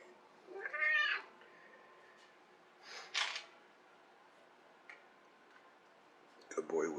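A cat meows loudly near the start, then again a couple of seconds later, with a few soft clicks and faint background hum between.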